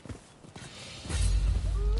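Horse hooves clip-clopping in the samurai game Rise of the Ronin, a steady rhythmic beat that grows louder and heavier partway through.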